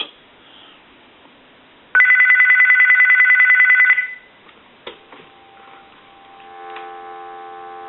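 A GE 25881EC telephone under repair rings once, a bright electromechanical bell clatter lasting about two seconds with the hook switch held down, followed by faint clicks and a low hum on the line.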